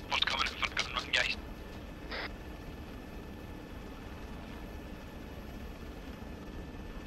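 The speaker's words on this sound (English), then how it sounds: "Chopper's coming in for gun range," Helicopter flying in during a military operation in the video game ArmA 3, a low, steady rotor rumble held under a few short bursts of voice chatter at the start.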